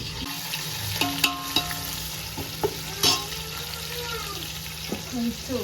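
Chopped onions sauté in a large pan for a vegetable biryani, giving a close, steady sizzle with clinks and scraping stirs over a low hum.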